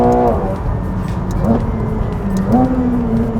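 A McLaren 720S Spider sports car engine droning low and steady inside the cabin, with a couple of brief rising pulls in pitch, no voices heard.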